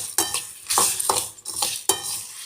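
Cinnamon, cloves and poppy seeds dry-roasting in a pan over a low flame for homemade garam masala, with close, repeated scraping strokes of a spoon and a light rattle of spices, no voices.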